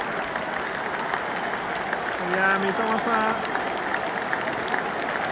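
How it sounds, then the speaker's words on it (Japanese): Stadium crowd at a Brighton vs Ipswich football match applauding the players, a broad, steady wash of clapping heard from within the stands, with people talking nearby. "ちゃんと拍手して選手を叩いてます"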